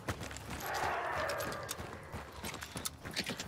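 Horse hooves clip-clopping in the video game Hunt: Showdown, a steady rapid gallop rhythm, moderately loud and close, with a faint voice briefly heard.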